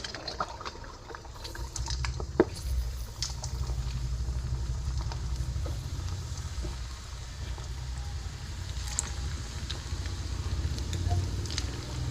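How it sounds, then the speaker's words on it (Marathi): Methi shankarpali, crisp fenugreek-leaf dough pieces, fry in hot oil over low flame, a continuous bubbling crackle and sizzle with scattered pops, close and steady throughout without speech. "आता आपण शंकरपाळे तळून घेऊया"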